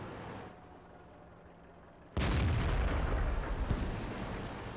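A World of Tanks tank's main gun fires once with a sudden heavy boom, followed by a loud sustained rumble and a second sharp crack, against low engine drone, with no talking.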